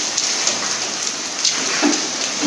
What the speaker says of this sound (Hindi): यहाँ पर अभी तुरंत काफ़ी तेज़ आंधी तूफान आया और काफ़ी बारिश हुई